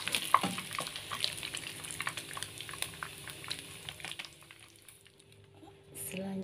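Ginger sautéing in a pan for oyster-sauce prawns, a steady soft sizzle with light stirring scrapes close by, fading slightly before a brief louder clatter near the end.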